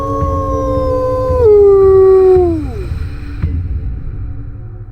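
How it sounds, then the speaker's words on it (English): A long, mournful wolf howl in the video game Rimworld rises and slowly falls, clear and sustained, heard in the distance, then trails off into quiet background ambience. "you could hear a wolf howl out in the distance."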